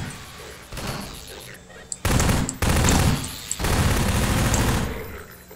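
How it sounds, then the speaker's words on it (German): Loud bursts of automatic gunfire in Half-Life 2, coming in several heavy volleys separated by short gaps, with a voice talking in between. "vor das Gesicht haben sie mir geschossen"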